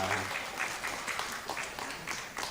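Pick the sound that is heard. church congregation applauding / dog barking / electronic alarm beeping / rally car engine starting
church congregation applauding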